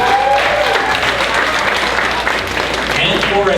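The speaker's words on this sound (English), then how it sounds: "Fabulous dancers, how about a big round of applause?" A talent show audience gives the dancers a loud, steady round of applause, with some cheering mixed into the clapping throughout.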